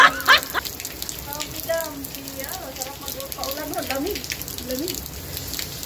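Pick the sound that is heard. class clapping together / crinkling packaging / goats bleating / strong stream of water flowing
strong stream of water flowing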